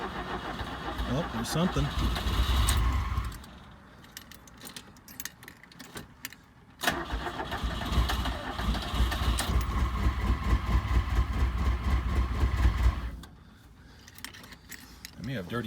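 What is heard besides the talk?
1980 Fiat 124 engine starting and idling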